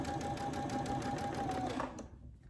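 A Brother Essence VM5200 sewing machine stitching a quilt, a steady close mechanical whirr with a fast rhythmic needle chatter that stops abruptly near the end.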